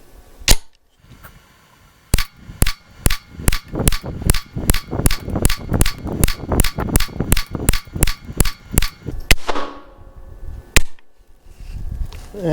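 Remington Thunderbolt rimfire rounds fired from a second magazine, a rapid string of about twenty sharp, loud cracks in quick, slightly uneven rhythm, then a pause and one last shot.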